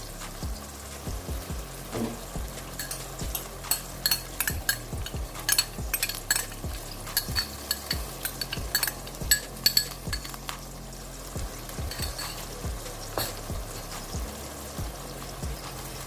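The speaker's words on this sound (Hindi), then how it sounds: "आप इसमें टमाटर भी ऐड कर सकते हैं, लेकिन मैं इसमें जो है वो टमाटर का पेस्ट वो ऐड करने लगी हूँ।" Tomato paste frying and stirred into bhindi chicken in a pan, a continuous sizzle with frequent clinking spoon strokes and scrapes against the pan, close and busy.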